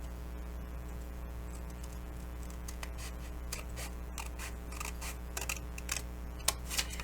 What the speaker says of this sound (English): then I can use my scissors to cut that off.